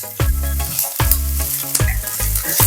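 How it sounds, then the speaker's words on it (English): Onions and jalapenos sizzle loudly in a hot pan, a bright, continuous frying crackle close up, layered over a low, rhythmic, throbbing pulse that swells every second or so. "We're adding our onions and our jalapenos. Just gotta cook them for a couple of minutes."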